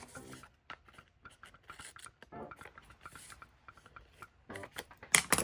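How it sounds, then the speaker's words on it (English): Dry rubbing and light scraping as paper ephemera is burnished down by hand onto a page, short strokes in uneven bursts, close and quiet, with a sharper crackle near the end. "just burnishing it so it can know exactly where I want it to go"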